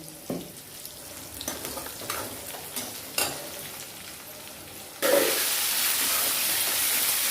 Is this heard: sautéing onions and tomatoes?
yes